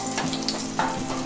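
Curry leaves and finely chopped garlic cloves frying in hot oil in a pan, a close, steady sizzle with brief crackling bursts as they hit the oil.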